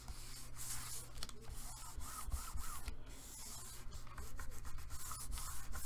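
A finger burnishing folded paper flat in a mini album, a steady soft rubbing and scraping in short repeated strokes, close and fairly quiet with no talking.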